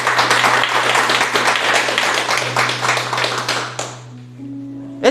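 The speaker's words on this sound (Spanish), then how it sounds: "¿Cuántos pueden darle un fuerte aplauso a Dios?" A church congregation claps during a Spanish-language worship service, dense applause over a steady low hum, then stops abruptly near the end, leaving a few sustained tones.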